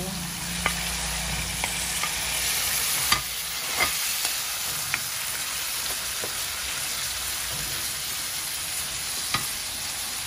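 Shrimp and long beans sizzle and fry in a pan for a sweet and spicy coconut milk dish. A steady crackling hiss runs throughout, with scattered clicks and taps of stirring.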